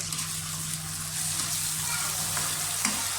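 Boneless chicken pieces dropped into a pan of frying onions for a moong dal khichdi, giving a steady, close hiss of hot oil that holds evenly throughout with a faint low hum underneath.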